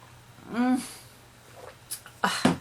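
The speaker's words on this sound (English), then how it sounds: "Been getting over a cough." A few short, harsh coughs come in quick succession after a brief voiced sound, over a low, steady background hum.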